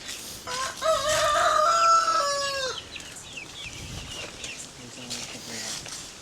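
Pet hens and young three-week-old roosters in the Philippines at feeding time, one bird calling loudly in a drawn-out, rising cry early on, then scattered softer clucks with a person talking nearby.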